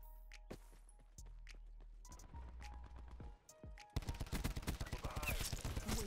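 The Tigershark light machine gun in Black Ops 4 opens up in rapid, loud, sustained bursts of automatic fire after a few seconds of quieter in-game clatter and footsteps.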